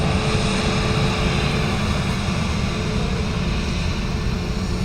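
An Airbus A321neo at Dublin Airport sends out a steady, broad engine roar that holds even and continuous throughout, with no pauses or voices.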